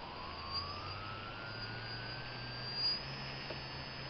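A brushless RC motor driven by an RCTimer ESC spins up under throttle, producing a faint, steady electric whine that climbs slowly in pitch over a low hum.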